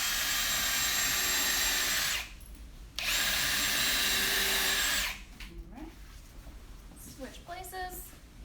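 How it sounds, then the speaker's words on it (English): A RYOBI power drill pre-drills holes in a wooden DIY cornhole board, whining loudly in two bursts with a brief pause between, then stopping, followed by quieter shop sounds and faint voices. "We're going to pre-drill."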